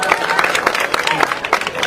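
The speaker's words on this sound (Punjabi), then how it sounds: "ਇੱਕ ਵਾਰ ਜ਼ੋਰਦਾਰ ਤਾੜੀਆਂ ਇਹਨਾਂ ਵਾਸਤੇ" Applause from a village crowd at a public gathering in Punjab, dense steady clapping filling the whole moment with scattered louder claps, fairly close.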